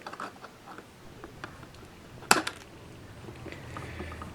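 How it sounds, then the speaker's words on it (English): Sharp snip of side cutters trimming the long legs of an LED during model garage wiring, a single crisp click close by with faint handling noise before and after. "the next bit is to snip back the long legs of the LED"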